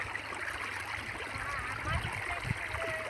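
Water flows and trickles steadily outdoors, a continuous rushing wash at moderate level with faint splashes, while a voice speaks briefly over it.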